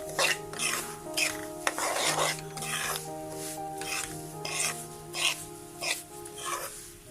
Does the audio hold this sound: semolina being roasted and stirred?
yes